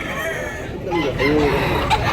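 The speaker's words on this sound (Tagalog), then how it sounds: "Gapo manok ka, mga big size na manok." Large roosters crowing and clucking at a poultry sale, a couple of short calls rising over background market noise and nearby voices.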